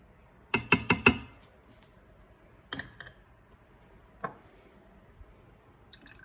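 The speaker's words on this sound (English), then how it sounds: "So I'm gonna stir that in." Spoon stirring broccoli, cauliflower and cheddar soup in an Instant Pot on saute, giving a quick burst of four close wet clacks, then a few scattered knocks and squishy taps with quiet gaps between.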